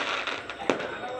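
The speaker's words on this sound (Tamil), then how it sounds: "வான வேடிக்கை" A single sharp firework burst cracks once at mid-distance against a faint background, with voices in the scene.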